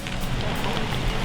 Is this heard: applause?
no